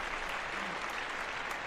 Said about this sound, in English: And a big round of applause for Claire.